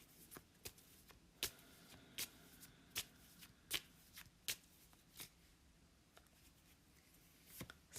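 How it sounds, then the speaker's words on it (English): A deck of cards being shuffled by hand, heard as a series of crisp riffling snaps and flutters at an uneven rhythm, close and fairly quiet over a faint room background with no talking. "as I went to shuffle, just 1 card slipped out in my hand"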